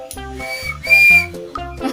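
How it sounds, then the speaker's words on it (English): A small plastic toy train whistle from a McDonald's toy is blown in several short, shrill, tonal toots with breathy hiss, close and fairly loud. "It's a whistle train"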